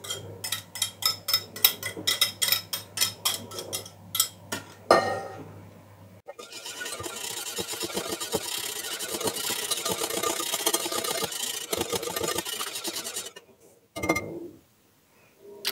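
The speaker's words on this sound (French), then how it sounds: "On rajoute ensuite donc le beurre et on vient fouetter le tout." A whisk beats butter into almond tart batter in a bowl, a steady, scraping rhythmic whisking that runs for several seconds after earlier clinks and taps, then stops abruptly.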